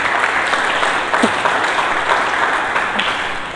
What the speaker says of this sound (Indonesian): Berikanlah tepuk tangan yang meriah.